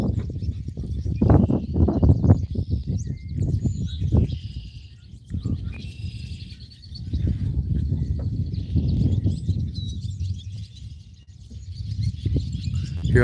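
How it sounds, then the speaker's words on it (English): Purple martins chirp and twitter faintly overhead at night, high calls above a low, steady rumble of outdoor noise. "Hear all these purple martins flying around?"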